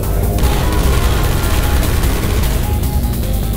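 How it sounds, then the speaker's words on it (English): Rapid turret gunfire rattles through a Portal 2 level, a dense, loud, continuous burst of shots and booming impacts with no pauses. "look out for gunfire"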